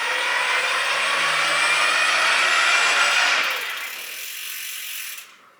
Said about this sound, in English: when you push the throttle and let go, the motor will continue to spin with low power so that it keeps the freewheel and the rear wheel engaged